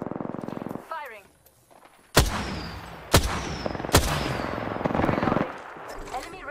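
Gunfire from Apex Legends: several loud, sharp shots crack out in quick succession, each followed by a busy burst of game action and effects, with game voice lines heard before and after.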